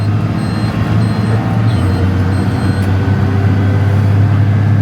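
A JCB Fastrac tractor engine roars loud and close, a steady heavy diesel drone that holds strong throughout without pause.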